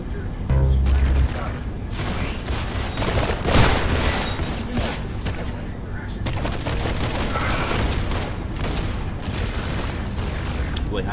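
Video game gunfire crackles in dense, rapid bursts with a heavier boom near the middle. It is loud and sustained throughout.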